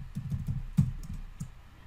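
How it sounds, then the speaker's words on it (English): Fingers tapping a computer keyboard while entering phone numbers into an Excel spreadsheet, a quick close run of keystrokes with a few sharper clicks, heard alone with no talking. "So if I keep typing"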